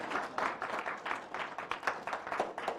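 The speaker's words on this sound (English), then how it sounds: "You can clap, sure." A small audience applauds at the end of a talk, a scattered, moderately quiet clapping that continues steadily for a few seconds.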